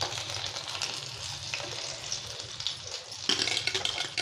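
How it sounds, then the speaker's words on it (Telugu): Onions and green chillies fry in a pan for an egg omelette, giving a steady, close sizzle with some watery spattering that swells louder near the end, and no voices. "ఇప్పుడు వీటిల్లోకి ముందు ఉల్లిపాయలు వేసుకుందాం."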